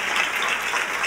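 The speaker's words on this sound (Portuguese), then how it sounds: "Você pode dar um aplauso ao Senhor?" Congregation applauding during a church sermon, steady broadband clapping filling the whole short moment without pause or talk.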